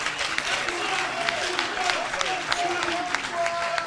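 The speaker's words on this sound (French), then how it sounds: "Je demande à l'assistance d'applaudir pour lui." An assembly applauds the coordinator of CONPAP with moderate, steady clapping. Voices talk over the claps throughout.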